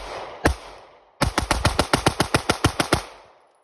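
Glock pistol fitted with a G-Flex trigger, one loud close shot, a brief pause, then a rapid string of about fourteen evenly spaced shots fired alone at a range.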